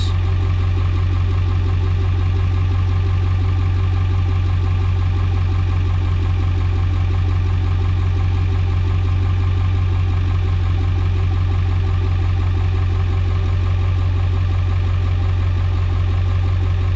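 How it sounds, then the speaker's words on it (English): A 7.3 Powerstroke turbo diesel truck with a 5-inch exhaust idles nearby, producing a loud, steady low rumble with a constant throbbing beat that stays even throughout, with no talking over it. "we have the truck running with the 5-inch exhaust"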